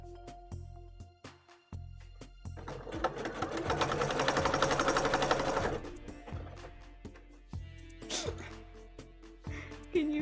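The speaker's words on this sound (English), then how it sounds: "Can you hear the sewing machine?" Sewing machine running in a home cosplay workshop, its rapid mechanical stitching rising and steadying for a few seconds between quieter clicks and handling noises, held close and fairly loud.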